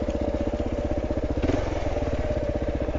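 Kawasaki KLR650 motorcycle engine on a trail, a steady close chugging thump held at a constant, moderate throttle for the whole stretch with a brief surge midway.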